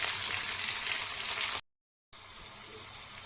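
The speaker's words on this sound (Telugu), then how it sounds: "తాలింపు చూడండి మంచిగా ఏగుతుంది" A tempering of green chillies, onions and curry leaves for a curd chutney hisses and crackles steadily in hot oil. The sizzle cuts out for about half a second, then resumes slightly softer, close by with no voices.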